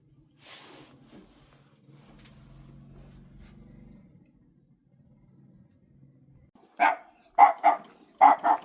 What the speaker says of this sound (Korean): 이 멍멍이가